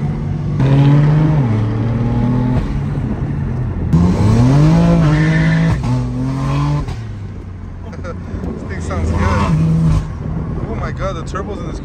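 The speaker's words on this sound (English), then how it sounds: "The turbos in this car sound good." Turbocharged BMW M340i or Mustang engine revving loudly in repeated rising pulls during a street race, with aggressive acceleration and wavering engine notes close by, while people talk over it.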